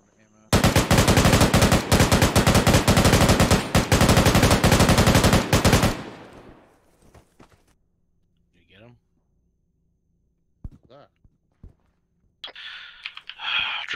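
Rapid, loud gunfire from a 1970s-era black ops mission in ArmA 3 rattles steadily for several seconds, then drops to near silence broken by a few scattered distant shots and brief bursts of talk.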